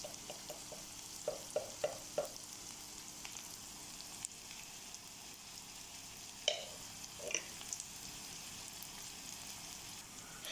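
Onions, ginger, garlic and curry leaves sautéing in a pan: a soft, continuous sizzle with occasional light clicks of a spoon stirring, fairly faint and steady throughout.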